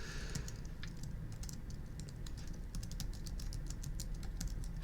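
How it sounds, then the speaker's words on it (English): Rapid typing on a computer keyboard, a dense run of sharp clicking keystrokes at close range, alone with no talking. "I'm going to type it in right now."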